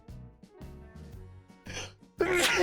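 A single sneeze bursts out loudly at the end, preceded by a sharp inhaled build-up, with game background music playing underneath.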